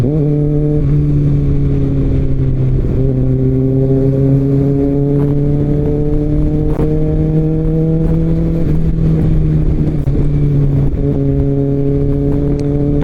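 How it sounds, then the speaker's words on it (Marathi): Dense road traffic on a Sunday ride toward Lonavala: a continuous, loud engine drone from cars and motorbikes close by, its pitch dipping and rising slightly as vehicles ease off and rev again, with no talk. "ट्रॅफिक बघा, ट्रॅफिक"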